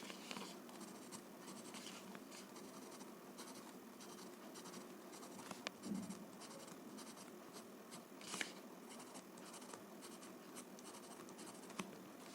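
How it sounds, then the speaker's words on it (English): Graphite pencil shading on paper with heavy pressure, darkening edges: a steady close-up scratchy rasp of continuous back-and-forth strokes, quiet and alone with no talking. "Tripoli I'm going to shade as a whole, so I'm just going to darken the edges"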